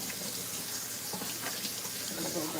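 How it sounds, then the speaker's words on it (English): A kitchen faucet runs steadily while hands are rinsed beneath it, a soft, even hiss of water splashing into the sink for a couple of seconds. "Rinse my hands real quick so I could grab a lemon."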